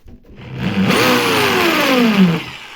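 A Vitals ET21200G electric drill runs in hammer mode, a loud, steady motor whine with a rattling, buzzing edge that rises quickly and holds for about two seconds before winding down.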